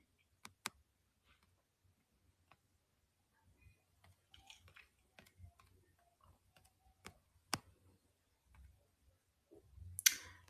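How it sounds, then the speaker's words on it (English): Scattered light key clicks and taps on a computer keyboard, irregular and fairly quiet, with a few sharper isolated clicks and a brief louder burst at the end. "while I'm typing this in"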